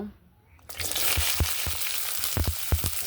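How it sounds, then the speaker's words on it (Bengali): Chopped onion, green chili and garlic hit hot oil in a wok-style karai, bursting into a sudden loud sizzle that holds steady with scattered crackling pops. "তেলটা গরম হলে পেঁয়াজ কুচি মরিচ কুচি আর রসুন কুচি দিয়ে দিব"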